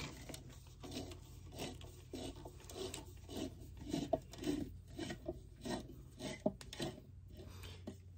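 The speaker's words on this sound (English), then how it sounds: "you'll need a large Phillips screwdriver to back these out" Large Phillips screwdriver backing screws out of the lower unit of a Volvo Penta DP-D1 DuoProp outdrive, a series of close, soft rasping turns and scrapes with brief pauses and light metallic clicks.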